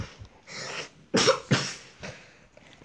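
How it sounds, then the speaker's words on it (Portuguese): Several short coughs and throat clears from a man with a cold, close and fairly quiet, with pauses between the bursts. "Ele tá tossindo aqui, tá gripado aqui."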